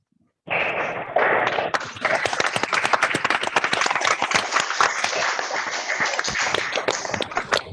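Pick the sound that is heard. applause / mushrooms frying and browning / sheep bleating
applause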